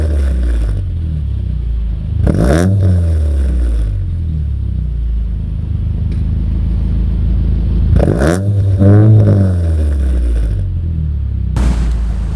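Toyota Corolla AE101 1.6 SE.G from 1995 with a custom Fujitsu Racing style single large-outlet muffler, idling low then revved hard three times, each sharp rise falling back to a deep, loud burbling idle.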